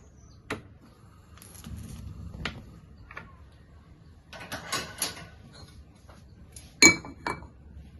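A small metal kadai is picked up and set down for frying while a chicken lollipop recipe is being made. There are sparse clinks and knocks of metal and glass, close by, with one sharper clang near the end and no talking.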